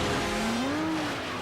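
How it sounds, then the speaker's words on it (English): An Aston Martin Vanquish and a Jaguar skidding into an ice palace, a loud tyre squeal rising and bending in pitch for over a second over a dense wash of noise. "it's the two cars, the Vanquish preceding the Jaguar, smashing into the ice palace"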